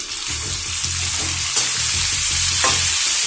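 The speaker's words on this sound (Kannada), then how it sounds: "ಅಲ್ಲಿವರೆಗೂ ನಾವು ಇದನ್ನ ಚಂದ ಫ್ರೈ ಮಾಡಬೇಕಾಗುತ್ತೆ" Chopped onions frying with a teaspoon of salt in a pan for a spicy chicken dry fry, giving a steady close sizzle with repeated stirring scrapes and soft knocks throughout, no voices.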